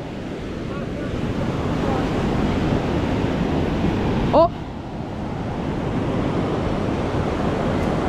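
Floodwater rushing like a river past a house, a steady broad roar of moving water throughout, with one short exclamation from a voice midway.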